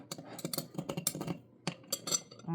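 A spoon rattled and picked out from among metal cutlery in a home kitchen, a quick run of light clinks and scrapes with short pauses.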